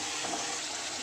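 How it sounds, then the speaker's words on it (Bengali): Water poured from a container into a pan of frying masala for a guava and spicy fish curry, a steady gushing splash lasting about a second, close and fairly loud with no talk. "এবার জল দিতে হবে।"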